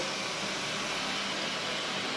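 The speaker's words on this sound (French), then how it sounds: "je lance l'aspirateur" A Xiaomi robot vacuum cleaner starts up indoors with a steady, even whirring hiss of motor and airflow, close and continuous with no voices.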